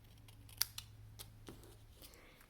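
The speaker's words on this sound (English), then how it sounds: "We're going to take it and just cut it at an angle with our scissors." Scissors snip through paper at an angle during papercraft, giving several sharp, crisp clicks and crunches spread unevenly across a quiet, close background with no speech.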